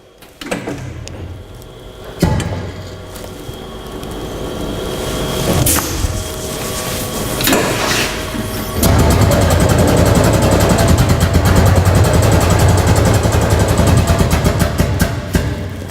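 A stainless steel powered pneumatic hydraulic drum tipper lowers its drum with a loud, steady mechanical hum and hiss, broken by a few clunks before a fuller, sustained rush of hydraulic noise takes over.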